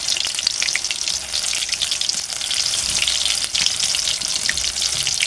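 Cauliflower pakoras deep-frying in hot oil give a loud, steady crackling sizzle that runs unbroken, with no talk over it.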